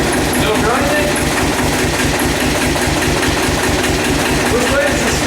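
Tractor engine running in neutral after a repair: a loud, continuous, rumbling drone with a throbbing low pulse, close by and steady throughout, with a voice faintly underneath.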